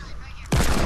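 Sniper rifle shot in a first-person video game, one sudden loud crack arriving abruptly after low background noise and cutting the clip off at full level.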